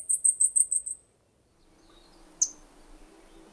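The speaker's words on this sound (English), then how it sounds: "People that have high range hearing loss can't hear a Blackpoll warbler, even if they're right next to it." Blackpoll warbler song, a very high, thin series of about seven rapid evenly spaced notes, faint and quiet, followed by a lone high chip over a low murmur.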